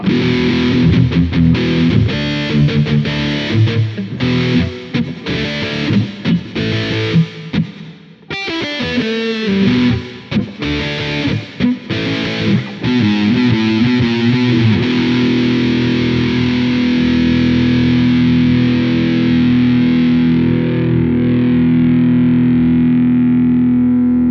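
A 2005 Epiphone Les Paul Standard solid-body electric guitar plays through heavy distortion, with fast riffs and chords for several seconds before a final chord rings out and sustains, slowly fading.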